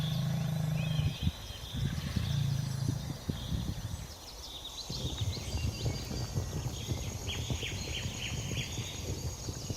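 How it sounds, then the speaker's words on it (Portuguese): Dozens of African buffalo bulls bellowing in the wild, deep roaring calls rising and overlapping amid a busy herd, with scattered hoof and animal noises and occasional higher cries. "o rugido de dezenas de búfalos machos líderes retornando para resgatar ela"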